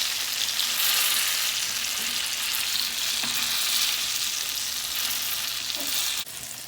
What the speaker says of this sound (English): So you gotta just keep turning these so that they're golden brown.